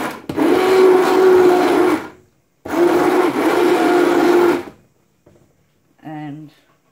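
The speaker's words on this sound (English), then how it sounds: "The stick blender in," A stick blender whirs through grape jam in two loud, steady bursts separated by a short pause, followed by a few faint knocks and a brief tonal sound at the end.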